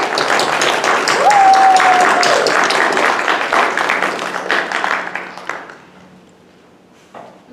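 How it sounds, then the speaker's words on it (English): Dense applause from a school assembly audience, loud and sustained for about five seconds before thinning out and fading, with a brief electronic tone near the start and a couple of stray claps at the end. "Give her a round of applause."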